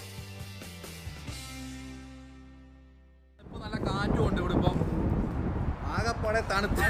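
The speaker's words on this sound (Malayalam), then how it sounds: "ഇപ്പൊ നല്ല കാറ്റുമുണ്ട് ഇവിടെ." Gusty wind buffets a phone microphone outdoors on a cold night in Kuwait City, a steady broadband rush arriving abruptly partway through after a quieter tonal stretch.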